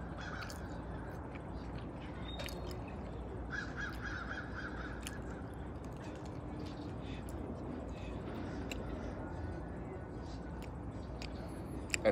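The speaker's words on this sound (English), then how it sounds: "See how high-pitched that crow is? That's a crow." Crow cawing outdoors among forested hills near a small city: repeated short, high-pitched caws at a moderate distance, scattered over several seconds against steady wind or road noise.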